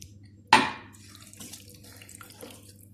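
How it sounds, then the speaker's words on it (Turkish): Water splashes into a pot of onion soup in a home kitchen: one sharp, brief pour near the start that fades quickly into a low, steady background hum. "Tekrardan bir su bardağı suyumu ilave ediyorum"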